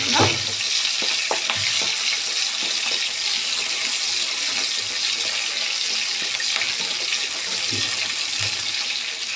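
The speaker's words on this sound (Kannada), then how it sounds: "ಹಸಿಮೆಣ್ಸಿನ್ಕಾಯಿ ಹಾಗೆ ಈರುಳ್ಳಿ ಸ್ವಲ್ಪ ಬಾಡಿಸ್ಕೊಳ್ಳೋಣ" Green chillies and onion sauté in a pan, with continuous close frying sizzle and hiss and irregular spatula stirring and scraping throughout, no speech.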